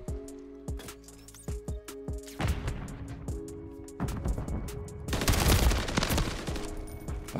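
Rapid bursts of FJX Horus gunfire in Modern Warfare 3, firing in short repeated volleys that build to a dense, loud stretch of shooting, with no talk over it.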